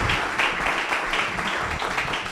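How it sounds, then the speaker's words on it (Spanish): Audience applause welcoming photographer Camila Aleans to a talk on analog photography in Medellín, a loud, close, dense wash of clapping that holds steady throughout. "les pido un aplauso por favor para Camila"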